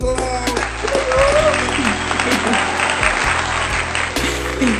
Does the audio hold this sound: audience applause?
yes